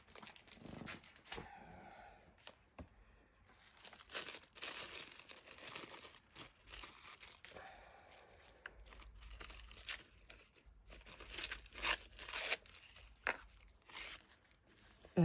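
Tissue paper is torn and crinkled for a junk journal, close and quiet: irregular bursts of rustling and ripping separated by short pauses, continuing throughout with no talk.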